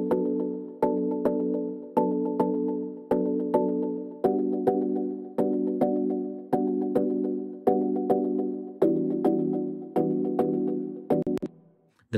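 A stack of afrobeat synth pluck presets from Serum plays together in a steady repeating pattern of short, bright chordal plucks, loud and clean with no voices, ending in a quick flurry.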